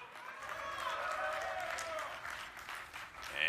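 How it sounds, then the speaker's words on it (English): A crowd cheers and applauds steadily at a StarCraft 2 esports tournament match, building slightly at the end, with a voice over it. "Give a cheer for PuMa."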